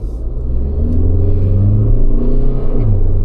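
A Tata Sierra diesel SUV engine revs up toward 3700 RPM in manual mode, then dips as the automatic gearbox shifts on its own, a loud, close, steady rumble with a falling note near the end.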